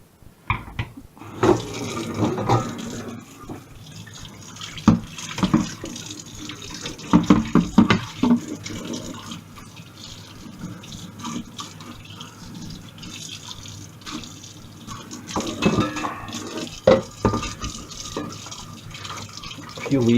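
Tap water runs into a kitchen sink as potatoes are rinsed, a steady close splashing flow with louder bursts of swishing and clatter while a person talks intermittently over it.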